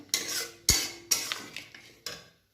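A spoon stirs palak paneer gravy in a pan, a few distinct metallic clanks and scrapes spaced apart, each fading quickly into near quiet.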